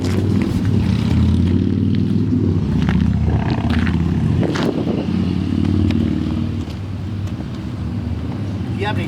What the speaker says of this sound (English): Freaking motorcycles.